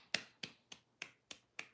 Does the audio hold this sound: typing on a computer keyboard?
no